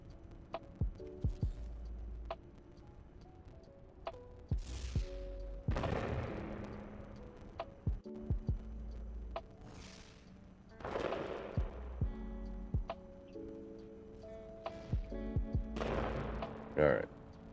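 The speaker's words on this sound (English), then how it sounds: "Because I'm just in the mood to see a firework." Fireworks go off in No Man's Sky as a series of whooshing launches and sharp pops with crackling tails, fairly faint and spaced across the clip, with someone talking in between.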